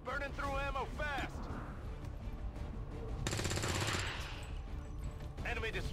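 Rapid automatic gunfire from a video game, with a dense burst of repeated shots in the middle and scattered weapon noise around it; short game voice lines and talk come before and after.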